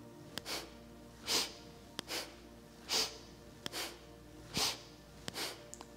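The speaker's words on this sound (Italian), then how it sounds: "continua a respirare energicamente dal naso" Energetic nasal breathing during a yoga exercise for the back, forceful rhythmic exhales through the nose roughly every 0.8 seconds, alternating strong and softer puffs, close and otherwise quiet with small clicks.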